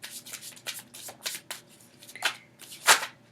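A deck of oracle cards is shuffled close up: a rapid series of soft riffling, papery bursts, ending in one louder snap of cards.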